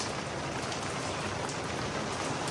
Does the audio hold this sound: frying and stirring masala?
no